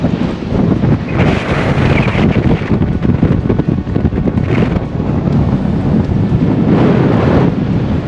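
Strong coastal wind at Boscastle, Cornwall buffets the microphone in loud, gusty rushes, with a low rumble underneath, continuous throughout.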